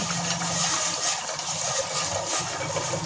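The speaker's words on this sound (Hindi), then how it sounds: "½ लीटर पानी इसमें सारा ऐड कर देंगे।" Half a litre of water is poured into a steel pot, making a continuous splashing gush at close range that lasts the whole stretch.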